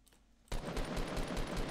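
Rapid bursts of gunfire from the video game Fortnite rattle out after a quiet half second, a dense string of sharp shots with no voices.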